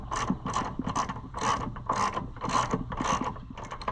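A ratchet wrench clicks in quick repeated bursts, close and clear, as carburetor bolts are tightened on a Briggs & Stratton engine, each stroke giving a short rattling run of pawl clicks.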